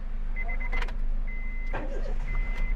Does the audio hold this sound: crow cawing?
no